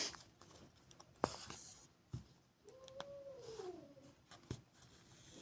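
A cat grumbling at a dog, a quiet low drawn-out growling moan near the middle, surrounded by faint scratches and taps in a quiet room.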